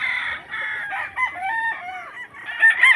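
A rooster crows loudly and close by at a place selling chickens, a long strained call followed by more crowing, with no talk.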